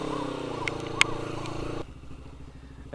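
A motorcycle fitted with a Black Widow aftermarket exhaust rumbles past while riding, a rough engine drone with one sharp click partway through before the sound drops to a quieter hum.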